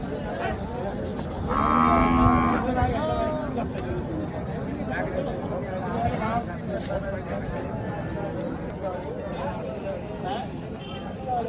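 Cattle low and moo amid the busy Deulgaon Raja bullock market, with a loud moo early on and crowd noise and talk throughout.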